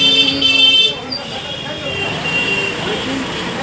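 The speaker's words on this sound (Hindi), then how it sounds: "गाड़ी का आवाज़ ज़्यादा आएगा" Busy market street traffic in Kolkata's Jan Bazar, with a continuous roadway rumble and a short high horn toot early on. Someone talks over the noise.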